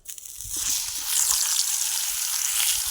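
Eggplant fries lightly in a little oil with a continuous, close crackling sizzle that swells after a soft start and holds steady throughout, with no talking.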